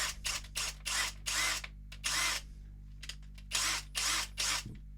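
An Erbauer impact driver fitted with a chuck adapter whirs in repeated short bursts, about seven or eight starts and stops, close and loud against a low steady hum.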